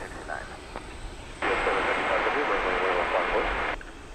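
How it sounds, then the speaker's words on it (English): A Boeing 757 jet arriving at DFW Airport at night, its broad engine roar swelling in suddenly and holding steady for a couple of seconds before dropping away, heard at a distance over a faint radio-like voice. "Once again, Flight 781 coming in from Laredo, Texas, 757."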